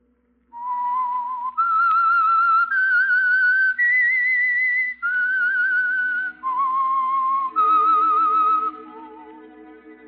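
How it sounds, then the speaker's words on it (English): A lone whistler plays the eerie theme signal of the old-time radio program The Whistler, holding clear sustained notes in a slow rising and falling melody, with soft orchestral accompaniment entering near the end. "That whistle is your signal for the Signal Oil program, The Whistler."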